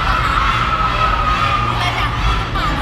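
A large concert crowd cheers and shouts continuously at close range, loud and dense, with high excited voices rising and falling throughout.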